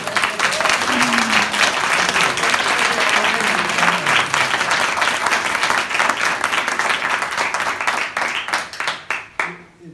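Loud, close applause from a conference audience at a shoemaking masterclass, many hands clapping together, with a few voices mixed in, thinning into scattered claps at the end.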